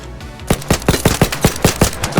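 A loud, close burst of rapid automatic gunfire from Arc Raiders: about a dozen evenly spaced shots in quick succession, with no talk over it.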